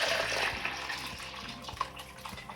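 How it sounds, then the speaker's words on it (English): Hot water running from a kitchen tap into a pot while brewing a Belgian IPA, a steady rushing hiss with faint clinks and splashes near the microphone. "so I'm gonna get some more hot water."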